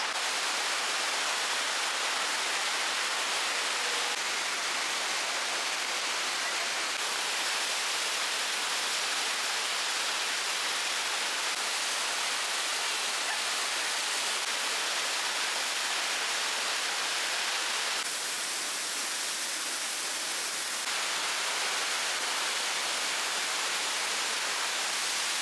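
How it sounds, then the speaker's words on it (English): Waterfall in the Brecon Beacons, South Wales, a dense continuous roar of falling water heard steadily throughout, loud and unbroken with no voices. "I can see the waterfall through the trees"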